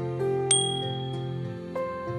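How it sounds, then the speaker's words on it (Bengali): A small, shiny hand bell in a Bengali cartoon chimes with one bright, clear ding that rings out briefly over sustained, musical background tones. "এটা একটা ঘন্টা, আর দেখো এটা কত সুন্দর বাজে।"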